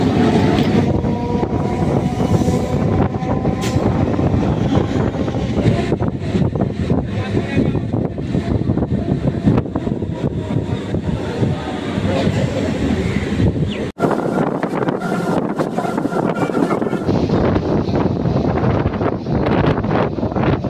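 Lalgola MEMU special passenger train running between stations, a loud continuous rumble of wheels on rails with steady clatter and wind buffeting, briefly dipping before resuming.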